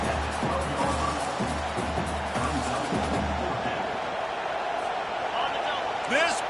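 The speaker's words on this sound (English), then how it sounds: "This crowd busting the decibel meter and trying to will a 4th down stop" Stadium crowd roaring in an American football video game as the defense tries to force a 4th down stop, a loud, steady wall of noise with a few sharp bursts layered in.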